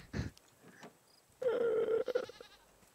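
A goat bleats in the survival video game Raft, a short sharp call followed by a longer wavering bleat, close and clear with brief noises in between.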